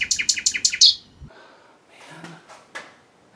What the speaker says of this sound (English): keep hearing that silly bird.